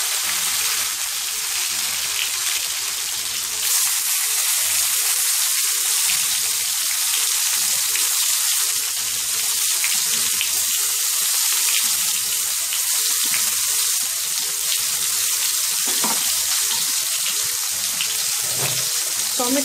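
Tomatoes frying in spiced oil for aloo dum, a continuous bright sizzling hiss that holds steady throughout with no talking.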